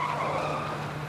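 A Ford Mustang skids around a curve without braking, giving a loud continuous tire squeal mixed with engine drone, heard close for a brief moment.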